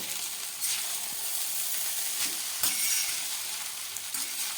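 Egg chowmein is stir-fried on a high flame, a dense, loud sizzle broken by a few scraping tosses of the noodles in the pan.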